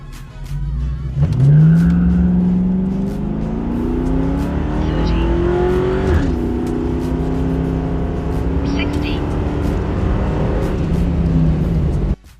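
A New Edge Ford Mustang launches hard on good tarmac in a timed acceleration run, its engine note rising steadily through the gears and holding loud and close for several seconds before cutting off.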